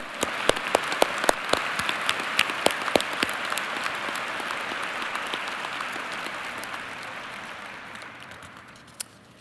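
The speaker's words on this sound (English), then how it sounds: "Let's give them a round of applause" Commencement audience at the 2019 Carlson School graduate ceremony breaks into sustained applause, dense clapping with a few sharp nearby claps, gradually fading toward the end.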